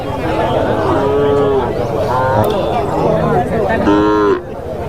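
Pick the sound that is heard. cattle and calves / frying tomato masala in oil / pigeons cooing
cattle and calves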